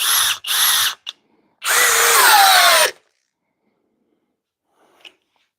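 A Flex cordless compact drill in speed 2 drill mode whirs in two short bursts, then runs for a longer, loud stretch before stopping; a faint click follows.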